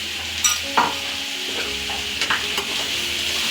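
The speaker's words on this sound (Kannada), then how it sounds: "ಸ್ವಲ್ಪ ಆಯಿಲ್ ಹಾಕ್ಬಿಟ್ಟು ಚೆನ್ನಾಗಿ ಹುರಿದ್ಬಿಡೋದು" Oil sizzles in a pan as ingredients are stirred and fried, a steady close hiss broken by scraping spoon strokes and light clinks against the metal, with no speech.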